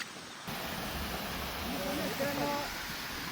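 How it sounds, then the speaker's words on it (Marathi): A waterfall pours forcefully, a dense, steady roar of rushing water up close, with a voice faintly in the mix. "धबधब्याजवळ आलेले आहेत आणि धबधबा किती जोरात वाहतोय बघू शकतात."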